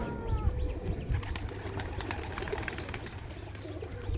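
Racing pigeons at their loft coo in low, soft, rolling calls close by. Faint chirps and light rustling fill a steady outdoor background, and no one speaks.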